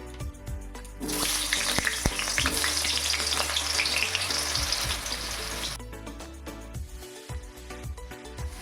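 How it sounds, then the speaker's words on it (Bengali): Potatoes sizzle loudly in hot mustard oil in a wok for several seconds, with clinks of a utensil before and after the frying burst. "আলুগুলো ভেজে নেবো"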